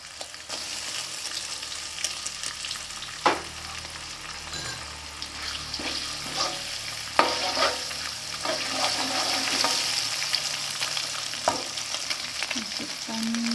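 An egg frying in a pan for mie goreng gives a steady, close sizzle, broken by a few sharp clinks and scrapes of stirring.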